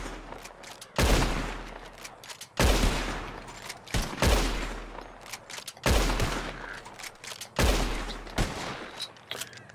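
Gunshots aimed at birds in the video game Red Dead Redemption 2, about five sharp loud reports spaced a second or two apart, each with a reverberating tail.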